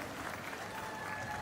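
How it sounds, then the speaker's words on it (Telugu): A crowd at a public meeting with the chief minister in Tuni applauds, a faint, steady patter of clapping with no breaks across the short moment. "గట్టిగా చప్పట్లు కొట్టి అభినందించండి"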